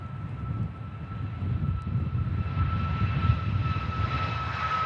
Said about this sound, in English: RyanAir gets airborne.